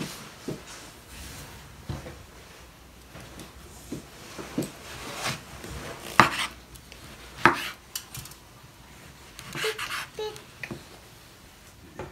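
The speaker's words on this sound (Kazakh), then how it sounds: "Помидорды да дайындап аламыз турап." A knife taps against a cutting board in irregular chops while tomatoes are cut for a dymlyama stew, mixed with clinks of dishes and utensils nearby, with no talking.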